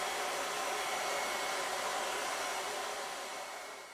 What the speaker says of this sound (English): you can use a hairdryer set on low heat